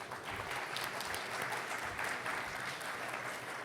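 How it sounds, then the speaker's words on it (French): Conference audience applauding steadily at a real estate and AI event, a dense sustained patter of clapping filling the room evenly throughout with no talk over it. "Sous vos applaudissements, s'il vous plaît."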